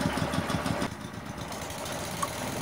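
A small drive engine on a mini rice mill, model KD 550 HM, fires up after a pull-start and settles into a steady, close idle with a low rhythmic chug.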